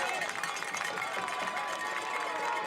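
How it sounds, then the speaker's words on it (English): Crowd noise at a high school football game between the Navarro Panthers and Smithsville Tigers swells steadily on third down, a dense, continuous roar of many voices with no single speaker standing out. "3rd down, and the crowd is getting loud."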